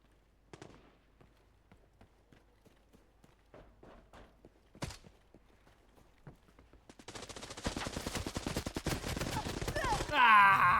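Gunfire in Arena Breakout Infinite, starting as scattered single shots and footsteps, then building into a dense, loud burst of rapid automatic fire near the end.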